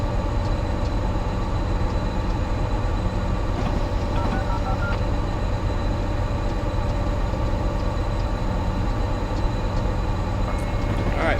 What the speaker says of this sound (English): Pretty long train to the right of us.